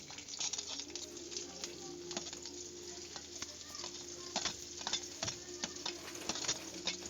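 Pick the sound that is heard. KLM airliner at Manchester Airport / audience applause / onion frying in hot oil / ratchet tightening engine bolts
onion frying in hot oil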